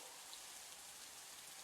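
Steady rain falling in The Isle video game, a dense, even hiss of drops with no letup. It sits faint and at a distance, and nobody speaks.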